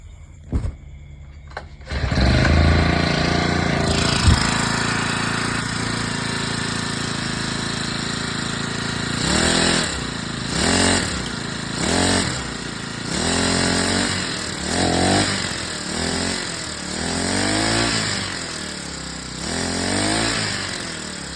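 Honda GX35 small four-stroke engine with hard-starting and stumbling-acceleration trouble, pulled to a start and then idling before being revved up and down repeatedly in surging bursts, close and loud with no speech.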